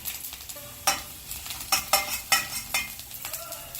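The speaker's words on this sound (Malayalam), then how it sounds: "ഇനി അടുപ്പത്ത് ഒരു പാൻ വെച്ച് ചൂടാക്കി അതിലേക്ക് 2 ടീസ്പൂൺ ഒലിവ് ഓയിൽ ഒഴിച്ച് 1 ടീസ്പൂൺ വെളുത്തുള്ളി ചെറുതായി മുറിച്ച് ചേർത്ത് വഴറ്റാം" Chopped garlic sautéing in olive oil in a pan, a low steady sizzle punctuated by several sharp spatula scrapes and stirs, close up with no voices.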